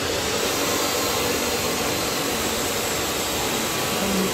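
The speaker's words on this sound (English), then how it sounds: "motor 12 volt 90 watt 60 rpm permanent magnetism warm gear motor" A 12 volt, 90 watt, 60 rpm permanent magnet worm gear motor drives a patient bed actuator downward, giving a steady, loud, continuous electric motor whir with no pauses.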